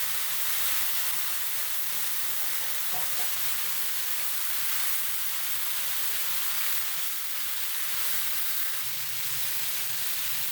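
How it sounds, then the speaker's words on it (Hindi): Six hundred grams of machine-minced keema fries in a pan for a Pakistani bhindi qeema, giving a steady, even sizzle and hiss with no breaks and no voices. "अभी इसे हम 5 मिनट फ्राई करेंगे।"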